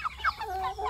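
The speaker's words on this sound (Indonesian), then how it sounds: "Ni standard ayam gajah ni." An ayam gajah chicken, a large African breed, gives a few short, close clucks in quick succession.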